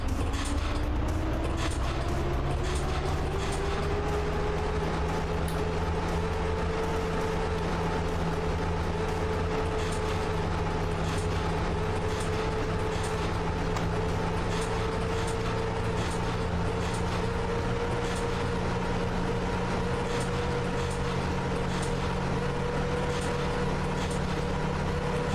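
A locomotive in the Train Driver 2 simulator pulls away after its brake is released. A steady, loud mechanical rumble carries a slowly rising motor whine for the whole stretch, with faint periodic clicks and no speech.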